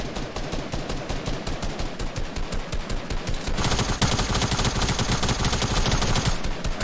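TAC SMG submachine gun fired in a video game, rapid bursts of shots in a fast regular rhythm, then a denser continuous stream of fire, loud and close with no talking.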